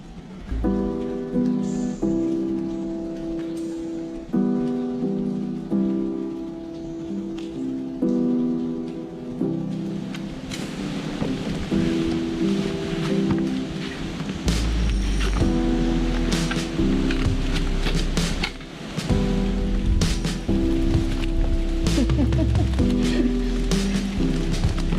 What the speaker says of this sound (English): About a minute into our walk, we get hailed on.